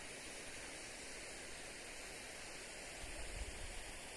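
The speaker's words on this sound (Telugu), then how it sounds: "ఈ జలపాతం నీళ్ళే అక్కడికి వెళ్తున్నాయి" Steady broadband roar of a waterfall in a hilly valley on a misty, cloudy day, continuous and fairly close, with a slight surge near the end; no voices.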